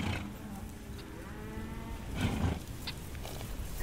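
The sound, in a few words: cattle mooing on ranch lands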